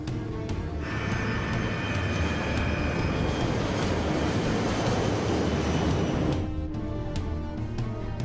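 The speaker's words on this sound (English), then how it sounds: "White Knight 2 and its spaceship cargo accelerate down the runway." The White Knight 2 carrier aircraft, carrying its spaceship cargo, roars down the runway on its takeoff run, a loud, steady, rushing engine noise that holds for several seconds and then drops away.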